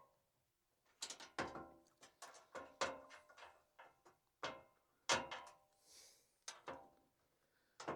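Bolts on a Jeep roof rack are tightened with a ratchet in repeated bursts of rapid clicking, close and fairly quiet, separated by short pauses, with no talking.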